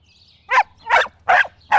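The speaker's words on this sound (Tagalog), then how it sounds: "May kumakahol. May aso ba dito?" A dog barks four times in an evenly spaced series, sharp and moderately close over a quiet background.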